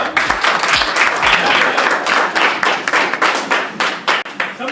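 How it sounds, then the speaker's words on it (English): Middle school students clapping during a presentation: a short burst of fairly loud, uneven applause from a room of kids, thinning into scattered individual claps toward the end. "Clap it up."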